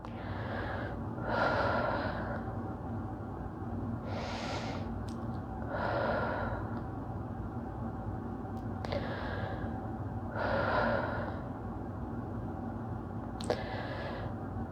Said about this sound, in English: We'll take a few deep breaths here.